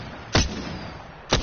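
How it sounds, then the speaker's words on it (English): Two sharp, loud gunshot-like bursts about a second apart from the Triple Take rifle in Apex Legends, each a brief punchy blast over a steady low background hum. "Firing 3 times right now."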